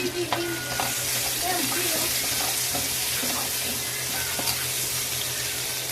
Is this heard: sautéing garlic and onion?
yes